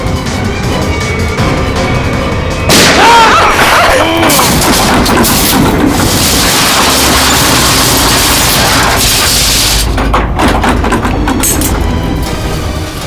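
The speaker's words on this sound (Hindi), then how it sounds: "लिफ्ट के अंदर गोली चली।" Gunshots ring out inside an elevator, loud sharp bursts with a booming, echoing body amid a busy dramatic soundtrack, with no speech.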